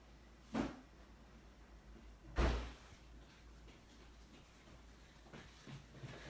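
Two dull knocks or thuds at a home's front door as a delivery arrives, fairly close and spaced about two seconds apart in an otherwise quiet room.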